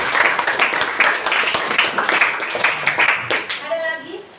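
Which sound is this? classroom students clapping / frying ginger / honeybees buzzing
classroom students clapping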